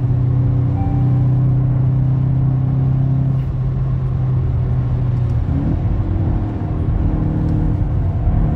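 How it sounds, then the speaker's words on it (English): A Volkswagen Golf GTI MK8 accelerating hard at around 80 mph with wheel spin, heard from inside as a loud, steady engine drone and road rumble with a brief shift in pitch partway through. "We've just got wheel spin at 80 miles an hour."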